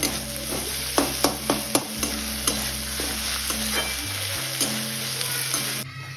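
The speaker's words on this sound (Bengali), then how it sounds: "রসুন পেঁয়াজটা ভালো করে ভাজা হয়ে গেছে এবার দিচ্ছি আদা" Onion and garlic frying in a pan as ginger is added, with a loud continuous sizzle broken by a run of sharp stirring clinks and scrapes early on, then steadier frying. Nobody speaks.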